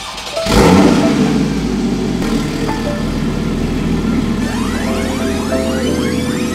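A Porsche 981 Boxster GTS engine fires up with a sudden loud burst, settles into a throaty idle, then revs and pulls away with rising, accelerating pitch sweeps.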